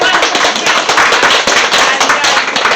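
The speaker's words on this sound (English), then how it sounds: "A round of applause because it was amazing." A Q&A audience claps for the performers of a post-pandemic theatre production, a dense, close round of applause of many hands clapping quickly and evenly throughout.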